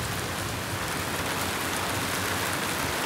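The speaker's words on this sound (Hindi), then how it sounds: "बारिश तो हो रही है तेज यार" Heavy rain pouring steadily in Kanpur, a dense, unbroken hiss of close rainfall filling the whole stretch with no voices.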